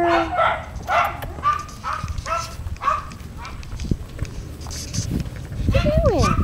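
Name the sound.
dog barking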